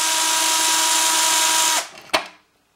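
A power tool drives out long body mounting screws on a FID Dragon Hammer, a steady loud whirr that cuts off, followed by a single sharp clack.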